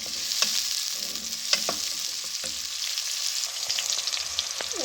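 Onions frying in a hot pan give a steady, close sizzle, with a few sharp pops and the light scrape of stirring; no voices.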